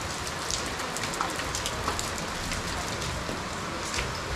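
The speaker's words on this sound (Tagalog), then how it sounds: "Ang lakas po ng ulan dito." Heavy rain pours steadily at a home during the rainy season, a dense continuous hiss with scattered close drops spattering on a surface, loud and unbroken, with no voices over it.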